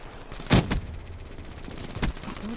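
Black Ops 3 gunfire: two distinct muffled bursts of shots about a second and a half apart, with quieter game noise running between them.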